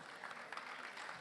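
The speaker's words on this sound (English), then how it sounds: "Yes, please applause." Brief, faint applause from a conference audience at a European proptech VC panel, a soft steady patter of clapping heard alone.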